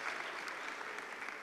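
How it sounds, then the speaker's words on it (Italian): Audience applause at a live singing contest evening, a brief, faint, steady patter of clapping heard from a distance. "facciamo anche un applauso a Deco che ha offerto"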